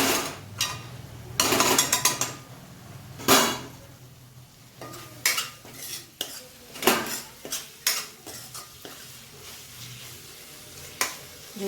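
Spoon stirring and scraping eggplant bharta in a metal pan, a close series of irregular clinks and scrapes, busy at first and then sparser, against a faint background hum.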